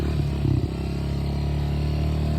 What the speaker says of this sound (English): If I get it revved up too much, like I had it revved up, I go a little bit further back.